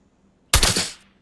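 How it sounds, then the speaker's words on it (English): A single suppressed gunshot from a silenced gun in the video game Fallout 76, a short muffled burst that cuts in abruptly and tails off quickly, isolated against silence. "here's the silenced gun"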